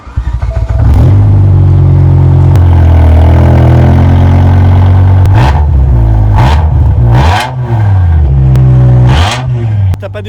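Outside a BMW M6 V10, loud close engine idling broken by several sharp throttle blips that rise and fall, with a brief voice in between.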